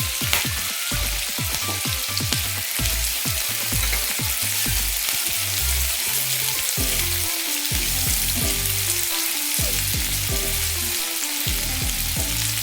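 Green chillies fry in hot oil while methi chaman is being made, giving a loud, steady sizzle that runs throughout, broken by rapid popping crackles and spits.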